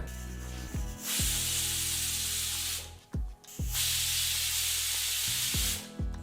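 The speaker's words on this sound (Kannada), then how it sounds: "ಹೀಗಿಲ್ಲಿ ಕುಕ್ಕರ್ ಎರಡು ವಿಸಲ್ ಬಂದಾಯಿತು" A pressure cooker cooking broken wheat biryani lets out two long, loud hissing steam whistles, each cutting off abruptly with a short sputter before the next blast.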